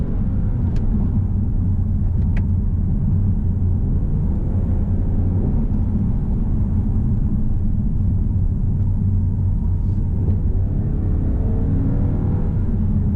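A 2018 Toyota Camry drives on a small private track, heard as a steady, loud low road-and-engine rumble from inside the car with no talking.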